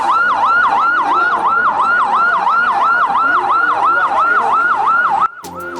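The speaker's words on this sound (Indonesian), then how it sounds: "Suara sirine mobil ambulans bersahut-sahutan." Several ambulance sirens wail at once, loud and continuous, in a steady rising-and-falling pattern as panic follows a free-meal food poisoning outbreak in Bandung Barat; the wail cuts off abruptly near the end.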